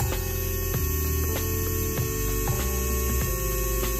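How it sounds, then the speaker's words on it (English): An electric nail drill runs at maximum speed, giving a steady high-pitched whine and electric hum, with faint regular clicks recurring about every half second, close and continuous. "Okay, so I'll show you what the volume of the sound is for these drills."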